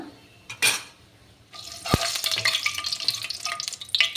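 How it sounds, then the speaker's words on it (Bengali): Bay leaves drop into hot oil in a pan for a Bengali home-cooked meal. A sharp crackling sizzle bursts up and settles into steady frying, with a utensil clinking against the pan close by. "দেখো এদিকে তেজপাতা দিয়ে দিলাম"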